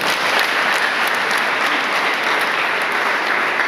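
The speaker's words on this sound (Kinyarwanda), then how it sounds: "munize amashyi mashimire" A church audience claps steadily and loudly for the full stretch, a dense, even wash of many hands with no pauses and no voices over it.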